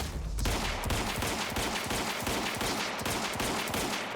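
Rapid gunfire from the Quantum Break video game fills the whole stretch after a brief quiet start, dense repeated shots in quick succession, loud and close with no talk.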